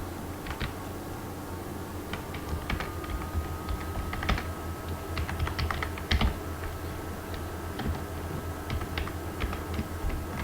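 Steady computer keyboard typing while HTML code is entered, a continuous run of quick, light key clicks with occasional louder strokes over a low room hum.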